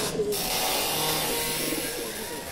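Pigeons kept for sale coo softly and close by, with low murmuring calls over steady background noise.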